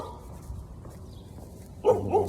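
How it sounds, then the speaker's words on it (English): A dog passing on a walk gives two loud, close barks near the end, following a stretch of quiet outdoor background rumble. "Hold on, there's a doggy."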